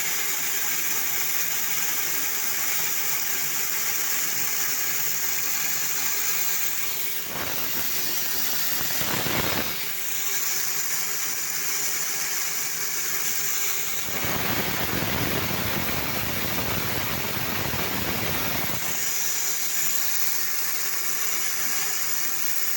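Electric-motor grain mill grinding wheat for feed in a farm storeroom: a constant close motor whine and hiss, broken by two louder rough grinding surges as grain feeds through.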